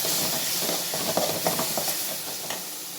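Masala of onion, tomato and chilli powder sizzles steadily in a pan with a broad hiss, small crackles and stirring scrapes scattered through, close and continuous.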